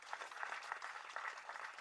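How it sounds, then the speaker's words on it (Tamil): An audience claps in a quick, bright patter of many hands, fairly faint and steady throughout, with no clear voices over it. "அவருக்கு ஒரு கைத்தட்டு தட்டலாங்க."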